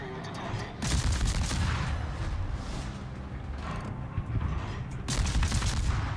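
Heavy naval guns fire on turrets in World of Warships, with dense booming salvos at about 1 and 5 seconds over a steady roar of continuous battle noise and ocean waves.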